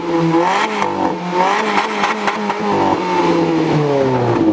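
An Abarth car fitted with a Ferrari engine revs hard nearby, its loud engine note rising and falling in repeated surges for several seconds with no talk.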